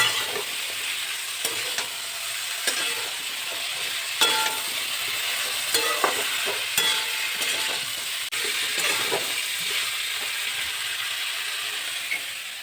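Pre-steamed cauliflower with eggplant and radish frying in a pan, a continuous loud sizzle broken by intermittent scraping and clatter of stirring.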